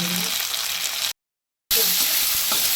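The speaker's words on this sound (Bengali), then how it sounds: "এখন টমেটো কুচিয়ে দিয়ে দেবো প্রথমে টমেটো টমেটো" Chopped tomato goes into a hot pan for a shrimp kofta curry and sizzles loudly and steadily, close up, broken by a brief total dropout before the frying noise resumes.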